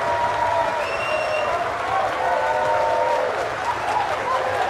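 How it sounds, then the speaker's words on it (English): A large crowd applauds and stamps in a film scene honoring Oppenheimer, steady dense clapping filling the space throughout with faint tonal music threads above it. "Oppenheimer reluctant takes his applause"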